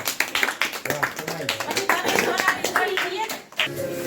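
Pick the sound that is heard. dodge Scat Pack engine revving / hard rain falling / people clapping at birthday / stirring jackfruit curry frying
people clapping at birthday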